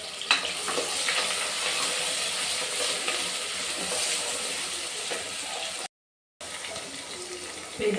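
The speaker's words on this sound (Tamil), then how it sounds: "வெங்காயம் கொஞ்சம் வதங்கட்டும் ஃப்ரெண்ட்ஸ்." Onions with curry leaves sauté in a pan for a South Indian vegetable kuruma, giving a steady close sizzle with faint stirring scrapes. The sound cuts out briefly near the end, then the sizzling resumes.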